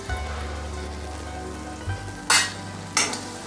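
Garlic chutney is added to tomatoes frying in a pan for a Gujarati village-style meal, bringing a steady close sizzle, then a low thud and two sharp bursts of hissing spatter as it hits the hot oil.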